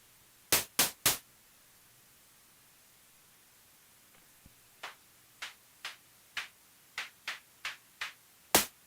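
Sharp synthetic clap hits from Bitwig software: three quick claps, a pause, then a steady run of softer evenly spaced claps ending with a louder one, over faint hiss.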